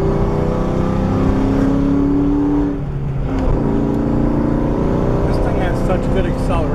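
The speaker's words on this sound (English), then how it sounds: "Such good acceleration that I can't hold my back straight." A 40th anniversary Ford Mustang accelerating on a road, its engine a steady low drone that swells slightly, heard from inside the car with people talking over it.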